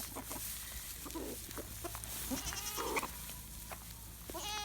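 Goats bleat up close amid a farmyard with chickens clucking, several short wavering calls scattered over a busy, continuous background.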